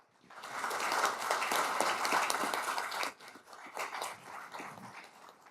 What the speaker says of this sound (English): let's give a round of applause for all the women